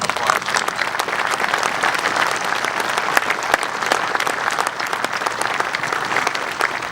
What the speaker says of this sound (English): I think we need to give them another round of applause.